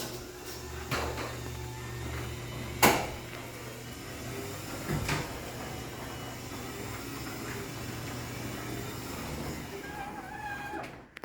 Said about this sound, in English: So we'll go ahead and run this here, and you'll see how much happier the opener sounds